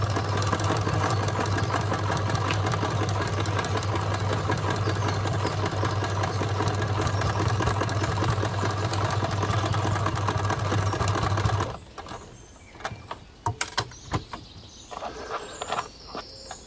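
Sewing machine stitching fabric for a handmade otter plush, a steady fast close whir for about twelve seconds, then it stops, leaving quieter handling clicks and rustles.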